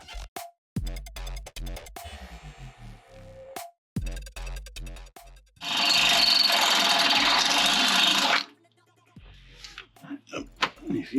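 Power drill boring out bolt holes on a 4L80E transmission, a loud steady whine running for a few seconds between stretches of talking and clanking tool noise.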